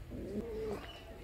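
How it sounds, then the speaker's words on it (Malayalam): A pigeon gives one low, smooth coo, close and fairly clear, among ornamental pigeon breeds at a park in Potta, Chalakudy, Thrissur. "ഇനി നമ്മൾ പോകുന്നത് വേറെ കുറച്ച് കിളികൾ, അതായത് പ്രാവാണ് കേട്ടോ. രണ്ട് ഇനപ്രാവുകളാണ് കണ്ടോ."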